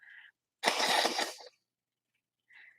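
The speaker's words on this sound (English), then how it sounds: "let me blow my nose" A person blows their nose in one forceful burst lasting under a second, close and fairly loud, with brief faint sounds before and after.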